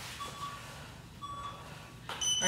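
A workout interval timer beeps during a boot camp HIIT session, a few thin electronic tones heard faintly over room noise, with a sharper burst of beeps right at the end.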